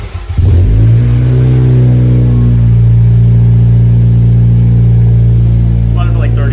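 A catless 2020 Honda Civic Si starts up indoors in a garage and settles into a loud, steady rumbling idle with a slight rev, a brief voice speaking near the end.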